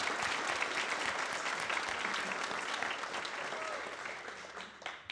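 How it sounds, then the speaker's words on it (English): A crowd at a vocational nursing pinning ceremony applauds continuously, a dense, steady clatter of clapping that fades slightly toward the end. "you can all give each other a round of applause as well"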